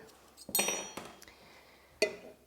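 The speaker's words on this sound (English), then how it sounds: "Now let me get a spoon" A metal spoon clinks against dishes in a kitchen while sourdough starter is being mixed, a few sharp close ringing taps spaced apart over a quiet background.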